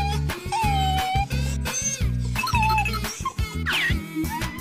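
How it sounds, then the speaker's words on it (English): A cartoon dog whimpers and yips in a children's animal sound sequence, a few short squeaky cries heard over steady rhythmic background music. "Dog."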